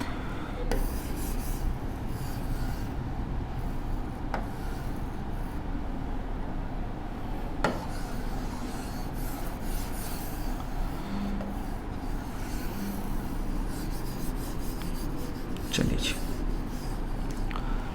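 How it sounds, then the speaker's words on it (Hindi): A question is written on a classroom board, with continuous scratchy strokes and occasional taps over a constant room hum, and a voice is faintly present in places. "एक क्वेश्चन और लिखते हैं अपने।"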